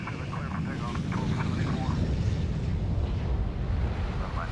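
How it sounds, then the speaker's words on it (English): A fixed-wing aircraft takes off from runway 27 in the airport management game SimAirport, a steady broad engine roar held throughout, with a voice talking over it. "runway 27, clear for takeoff"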